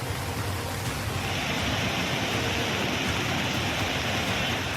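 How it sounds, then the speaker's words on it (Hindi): A flooded river rushes past in heavy rain, a loud and steady roar of churning water that fills the whole stretch without pause. "दरिया का पानी शोर मचाते आगे बढ़ रहा है।"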